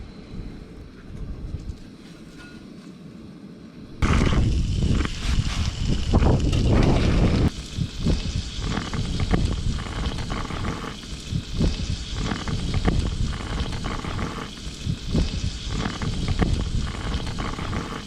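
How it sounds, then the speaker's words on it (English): Strong wind roars and buffets the microphone at a campsite in Blair Valley, rising sharply after a few seconds of quieter rumble and gusting unevenly throughout. "It's windy as hell out there."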